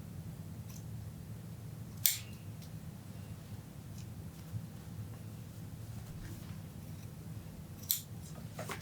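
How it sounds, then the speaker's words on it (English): Scissors snip through wet felted fabric in a few faint, sparse cuts against a quiet, steady background hum. "I snip it up and then I'll cut it"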